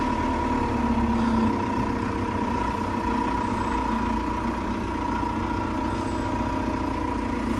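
A TR5110 tractor engine running on a cold early morning during field preparation, a steady low idle drone with a faint hum, continuous and fairly quiet, with no talk.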